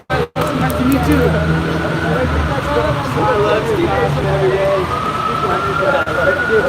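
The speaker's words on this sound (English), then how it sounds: "now we've got sirens not too far away from here" Police sirens wail near a protest on the I-5 freeway in Seattle, a rising and falling tone riding over a dense, noisy crowd with talking close by.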